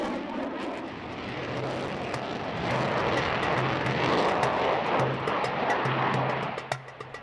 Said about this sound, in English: The Typhoon flies like a dream.